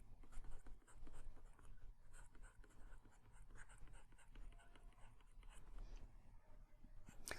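A marker or chalk writes on a board during a physics lecture, giving a steady run of faint scratchy strokes over a quiet room, with no talking.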